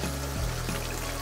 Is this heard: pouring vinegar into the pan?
yes